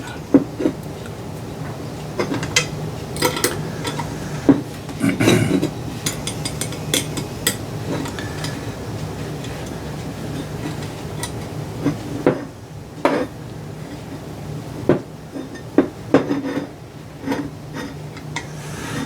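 Nuts are tightened onto bolts with repeated small metallic ticks and clicks of a wrench, spaced out irregularly over a low background hum.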